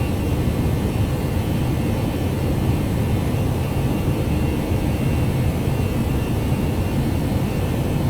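Simulated Airbus A319 jet engines in X-Plane 11 hold climb thrust, producing a steady, loud, unbroken broadband roar with no change in level throughout.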